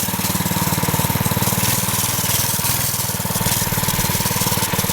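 A small mini bike engine runs steadily with the choke up, a close, loud, fast putter with an even rhythm that holds throughout and never dies down.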